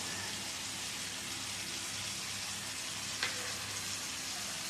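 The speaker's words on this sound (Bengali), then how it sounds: "চিকেনটা ভাজা ভাজা হয়ে গেছে দেখো চিকেনের থেকে এরকম তেল ছেড়ে এসেছে" Kashmiri-style chicken fries in its own released oil with ground spices, a steady loud sizzle with crackling throughout and a single brief clink near the end.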